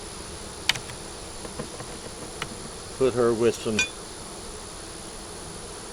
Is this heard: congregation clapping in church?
no